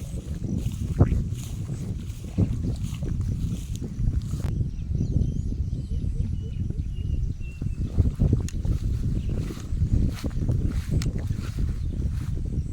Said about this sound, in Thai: บรรยากาศลมว่อยๆ